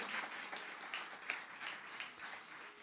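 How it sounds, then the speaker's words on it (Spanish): A church congregation gives faint, distant applause during a Spanish-language worship service, a soft steady patter of clapping with a few sharper claps rising above it. "Denle un aplauso a Jesucristo, por favor."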